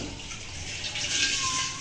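Tap water runs steadily as a kadhai is washed in a home kitchen sink, the flow swelling louder toward the end, with no speech.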